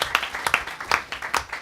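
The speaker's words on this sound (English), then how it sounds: "Let's give him a big round of applause." A short burst of scattered hand clapping from a small gathering welcoming a guest, several uneven claps close by with no voices.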